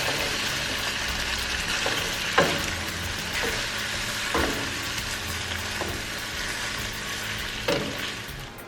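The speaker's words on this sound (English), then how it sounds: "we're going to put the lemon in. Stir it around." Shrimp linguine sauce sizzles steadily in a hot pan as lemon is added and stirred in. The frying hiss is loud and continuous, with a few brief scrapes of stirring and no talking.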